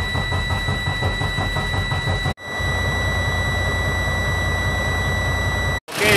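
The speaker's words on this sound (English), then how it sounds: "And then we're gonna start the engine." A Freightliner Cascadia diesel truck with a DD13/DD15 engine runs after fuel-system work, giving a loud, steady roar with high whining tones, interrupted by two brief near-silent drops.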